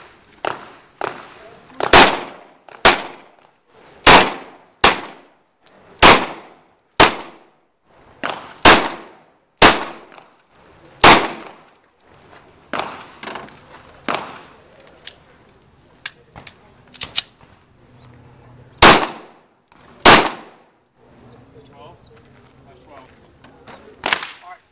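Glock 19 pistol shots at an IDPA shooting stage, about fifteen sharp, loud cracks in a steady run with short gaps, then a few spaced final shots and faint voices in between.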